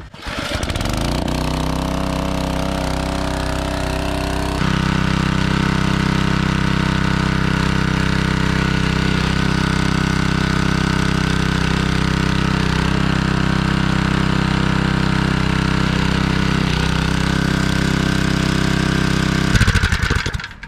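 A forward tine tiller's small gasoline engine runs steadily after being pull-started, a loud continuous rumble close by that steps up in intensity after a few seconds, as if throttled up, and then holds for the rest.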